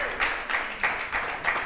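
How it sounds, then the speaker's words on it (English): Applause for a Georgetown high school football team closing a 9-4 season with third place in district, a short burst of clapping rising in repeated swells of broadband noise, moderately loud, with no voices over it. "Let's give them a round of applause on that 9-4 and third place in district."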